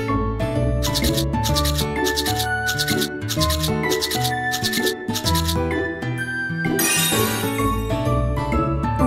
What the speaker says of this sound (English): Brush the teeth up and down.